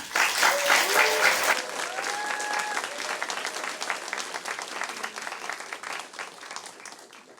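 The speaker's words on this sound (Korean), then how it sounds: "나올 때 큰 박수로 환영해 주세요." Applause from a church congregation welcoming a young contrabass student to the front, loud and dense at first, then easing into steadier, softer clapping with some voices mixed in.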